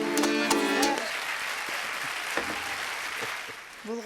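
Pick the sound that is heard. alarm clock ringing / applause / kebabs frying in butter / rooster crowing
applause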